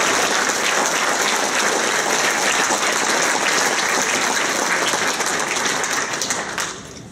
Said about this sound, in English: and they deserve your applause